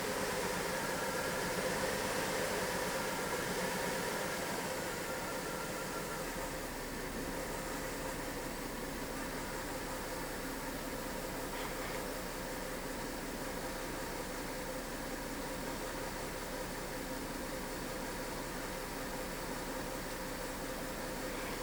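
A Holden VE/VZ Commodore engine idles roughly with a misfire, a steady low rumble with its uneven running faint beneath a constant hiss, with no voices.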